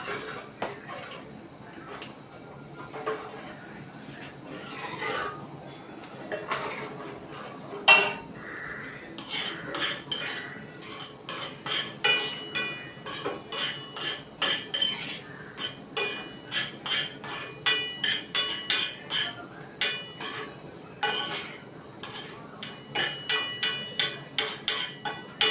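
A metal spoon scrapes and clinks against a pan while stirring cashew nuts frying for semiya payasam, the taps starting sparse and quiet and building into a quick, steady rhythm of sharp close knocks.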